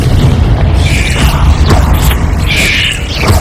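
Confringo fire spells cast in the Hogwarts Legacy video game, loud booming blasts near 1 and 2.7 seconds over a dense rumbling game soundscape, with no talk.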